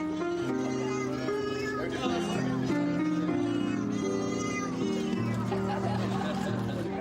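A person imitates cat meows with the mouth in a playful musical pussycats game, a series of high, wavering meow-like vocal tones over a steady sustained musical drone, with people chattering in the background.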